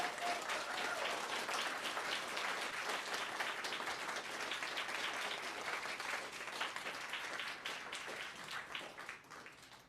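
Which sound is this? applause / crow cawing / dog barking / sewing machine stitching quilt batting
applause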